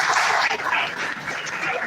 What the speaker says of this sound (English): Round of applause for Professorial